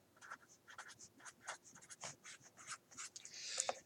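A pen scratching out the law of cosines by hand on paper, with quick, uneven strokes and brief pauses between them. The scratching is close and fairly quiet, with no talking.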